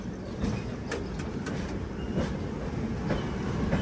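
A passenger train on the Mumbai to Pune route rolls near Dadar, its steady rumble and clickety-clack of wheels on rail joints filling the scene, with sharp metallic clanks recurring as the carriage sways.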